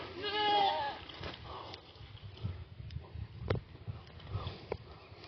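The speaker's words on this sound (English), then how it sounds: "Mama goats." Goats bleat a few times nearby, followed by shuffling and sniffing sounds in a quiet barn setting.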